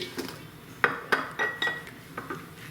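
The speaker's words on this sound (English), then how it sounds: "press the zucchini down, all the way down into the corners" A wooden muddler pressing zucchini down into a glass fermenting jar, making a series of sharp clinks and knocks against the glass at an uneven pace, close up and fairly quiet.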